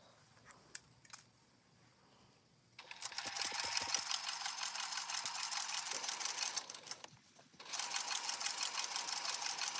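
A sewing machine stitches wallet box panels in long steady runs of rapid, even needle clatter, stopping briefly mid-seam before resuming, after a few quiet clicks at the start.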